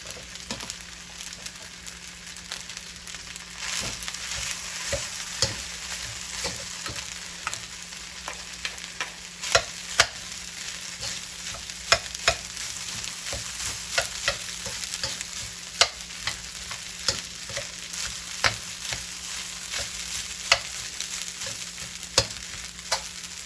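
Turmeric rice is stirred in a big pot, a steady scraping and stirring with sharp clicks of the spoon against the pot over a soft continuous sizzle, close and fairly loud, with no talking.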